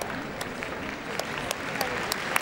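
Spectators at the Crufts 2010 dog show applaud as competitors leave the ring after the Gundog group judging, a broad, even roar of distant clapping with a few sharper nearby claps standing out.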